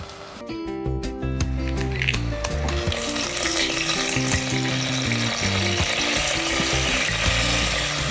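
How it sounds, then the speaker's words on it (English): Garlic fries in a pan with steady sizzling crackle, close and continuous, with a bright hiss and occasional tonal clinks over it; no voices. "Now I can hear it sizzling, so now I'm gonna turn it down even more."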